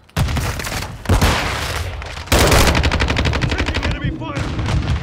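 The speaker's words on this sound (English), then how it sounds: "Taking enemy fire!" Automatic and single-shot gunfire from Call of Duty: Modern Warfare II, with loud, dense bursts of rapid shots that break off briefly and resume, nearly continuous across the whole stretch.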